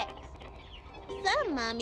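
Chickens cluck in the video game Amanda The Adventurer, a few short clucks rising over a person's voice near the end of the moment.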